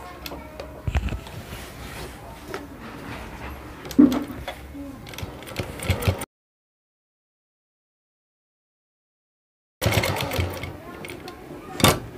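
A sewing machine stitches a belt onto a salwar, steady rapid mechanical clatter for several seconds, then a silent break before the whirring stitching resumes, with a voice speaking over it.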